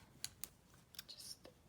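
A few quick, crisp snips of scissors cutting through yarn, close and quiet, with faint handling sounds between them.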